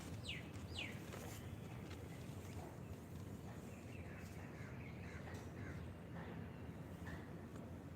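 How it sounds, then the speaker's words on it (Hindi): Birds chirp and call outdoors during a morning yoga session, thin scattered notes over a steady background of outdoor noise, faint and somewhat distant. "पक्षियों की मधुर आवाज़ को सुनने का प्रयास करें"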